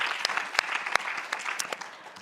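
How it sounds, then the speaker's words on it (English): Conference audience applauding at a climate change adaptation forum, a steady wash of many hands with a few sharper individual claps standing out, moderately distant and without voices. "Can we give them, please, a big round of applause?"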